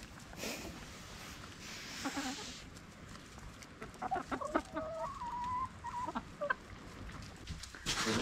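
Backyard chickens and a rooster cluck in short scattered bursts after a storm, mid-distance over a rough outdoor background, no talk.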